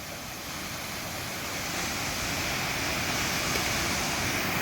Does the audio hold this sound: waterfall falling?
yes